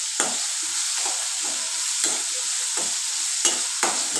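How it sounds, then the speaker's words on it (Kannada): Onions fry with salt in a pan under a constant bright sizzle, while a spatula scrapes and stirs in a regular rhythm of soft strokes, close and without speech. "ಈರುಳ್ಳಿ ಹಾಕ್ಕೊಂಡು ಚೆನ್ನಾಗಿ ಫ್ರೈ ಆಗಬೇಕು"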